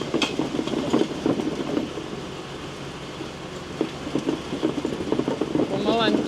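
Potatoes are unloaded from a potato harvester onto a conveyor belt on a Swiss farm in winter, a continuous rumbling, clattering machine rattle with sharper knocks, and someone speaks over it.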